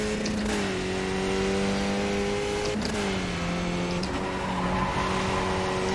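A Skip Barber race car in iRacing holds a steady, droning engine note that shifts pitch between gears, with brief tyre noise, loud and close throughout with no talking.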